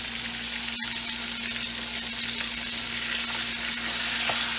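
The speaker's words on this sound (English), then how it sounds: "I'm gonna grab a wooden spoon. Stir this on." Chicken livers fry in a hot pan while a wooden spoon stirs them, a loud, close, continuous sizzle with faint scraping and one brief dropout.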